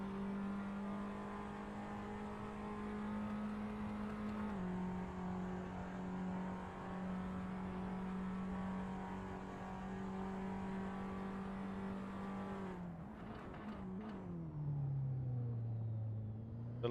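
A formula-style race car in Assetto Corsa at Istanbul Park holds a steady high-pitched engine drone near the limiter, then shifts up a gear, the tone dropping and rising again as it accelerates.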